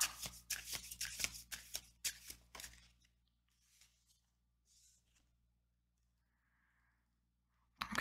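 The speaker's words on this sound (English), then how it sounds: "I just need to pull more cards." Tarot cards riffle and slap together in a quick close shuffle for about three seconds, followed by faint soft handling and a card being drawn in near silence.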